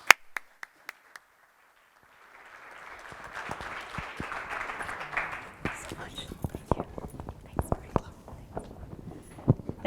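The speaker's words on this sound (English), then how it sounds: "Please give them a round of applause" After a few sharp isolated taps and a short hush, an audience's applause swells up to welcome two speakers onto a stage, building into a dense, uneven clapping with louder individual claps and soft murmuring voices underneath.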